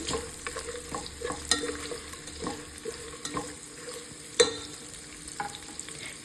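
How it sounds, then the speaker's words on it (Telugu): Onion and green chilli pieces fry in a pan for a country chicken pulao. There is a continuous close sizzle, broken by repeated scraping stirs and a few sharper clinks of the spoon against the pan. "దీంట్లో కట్ చేసి పెట్టుకున్న పచ్చిమిర్చి ముక్కలు కూడా వేసుకుని బాగా ఫ్రై చేసుకుందామండి"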